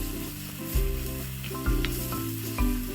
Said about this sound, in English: add the remainder of the flour and give it a stir